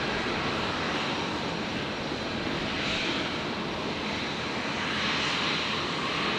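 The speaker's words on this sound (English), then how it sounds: "Another Jetstar 321neo in the brand new livery." Jetstar Airbus A321neo jet arriving at Brisbane airport on approach to runway 01 right, a steady broadband engine roar that holds loud and constant throughout with no voices.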